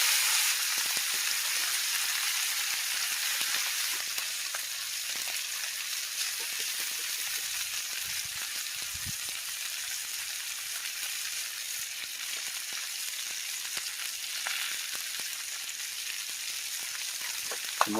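Tomahawk steaks sizzle and crackle on a hot Camp Chef griddle, a steady dense hiss with faint pops throughout, close and continuous with no talking.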